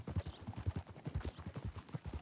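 A horse in Red Dead Redemption 2 clip-clops along a road under its rider, its hooves striking in a steady, close, rhythmic trot.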